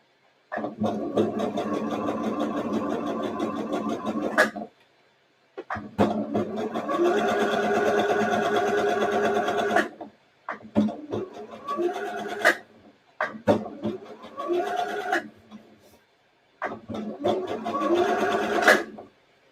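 A sewing machine stitches fabric for a shirred top in steady, rapid runs of several seconds each, stopping and restarting repeatedly as the cloth is guided around a curve, close and clear with no talk.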